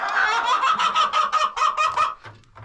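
Backyard chickens cluck loudly and close by in a steady run of rapid, repeated calls, including a bantam hen, before they trail off near the end.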